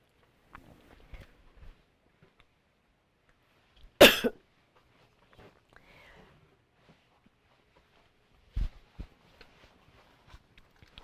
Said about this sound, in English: I'm just going to have to clear my throat here.